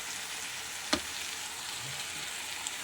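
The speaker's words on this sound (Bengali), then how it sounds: "এখন আমি চিংড়ি মাছগুলো দিয়ে দেবো।" Prawns and banana flower fry together in a pan with a soft, steady sizzle. A single sharp clink or clatter comes about a second in, against a quiet, even background.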